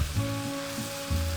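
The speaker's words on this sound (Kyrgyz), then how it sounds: "Азырынча бул курула берсин." Chopped mushrooms frying in a pan as the base for a mushroom soup, a steady close sizzle with soft bursts of stirring, no voices.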